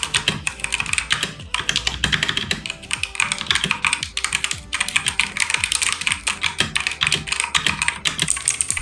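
Fast, steady typing on a mechanical keyboard fitted with blue and brown switches, a close, crisp stream of clacky keystrokes with brief pauses and no talk.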